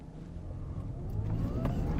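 An Audi A7 55 TFSI quattro in dynamic mode pulls away from a standstill, its engine note steadily rising in pitch and loudness over two seconds, heard from inside the car.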